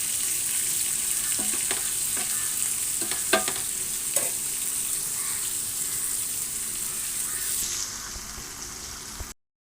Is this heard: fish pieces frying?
yes